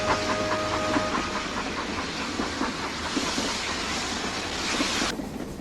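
Rhythmic chugging and hissing of a steam train rolling along the tracks, steady and moderately loud, with a sudden drop in the hiss near the end.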